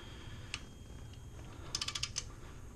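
A ratchet tightens cylinder head bolts on a 2007-2013 R56 MINI Cooper non-S engine during a head gasket job. One faint click comes first, then a quick run of quiet ratcheting clicks close by against a low background hum.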